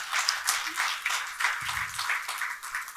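An audience applauds at a brochure launch event for a women and child foundation, with a steady, fairly faint wash of many hands clapping in rhythmic bursts for about three seconds.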